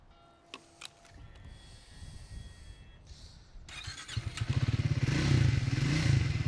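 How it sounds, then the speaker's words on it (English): A Triumph Speed 400 motorcycle engine cranks and fires, then settles into a loud, close, rumbling idle with rapid pulsing exhaust beats after a few mechanical clicks. "Nice sounding motor, great machine."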